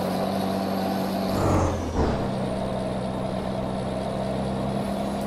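A heavy vehicle engine, heard from inside the vehicle in first gear, rumbles steadily, with a surge and a brief hiss midway before settling back into a constant drone.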